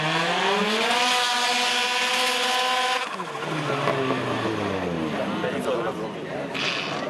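Motorcycle racing down the strip at a 2013 drag race day in Agrinio, its engine screaming through rising gear changes before cutting off, then a second run revving and pulling away as an announcer talks over the noise.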